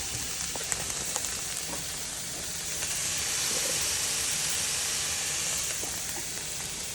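Pork chorizo sizzles steadily in a hot pan, a dense, even crackling hiss with scattered pops that swells slightly midway, heard alone with no talking.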